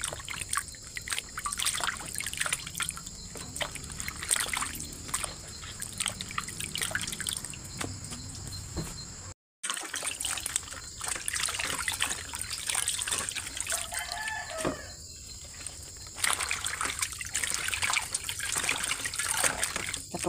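Water is poured from a bucket and trickles while dishes are washed by hand at a home without a tap, a steady close dribbling and splashing that continues with brief pauses.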